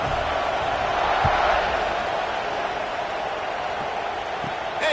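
A football stadium crowd buzzing after a score, a steady distant roar of many voices that holds level throughout with no single cheer standing out.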